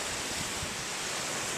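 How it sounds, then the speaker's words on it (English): Steady broadband wash of ocean surf on a shoreline, continuous and moderately loud with faint wind buffeting the microphone, no voices over it. "I invite you to take a look at the ocean behind me"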